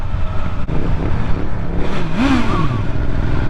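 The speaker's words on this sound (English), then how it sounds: "Did you rev the engine for those kids?" A vehicle engine revs up close, its pitch climbing sharply then easing back, set against constant loud road and wind rumble.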